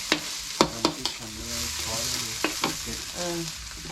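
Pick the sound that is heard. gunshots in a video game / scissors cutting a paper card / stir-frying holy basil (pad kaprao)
stir-frying holy basil (pad kaprao)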